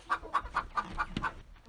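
Backyard chickens cluck nearby in a series of six short, evenly spaced calls, fairly clear against faint outdoor background noise.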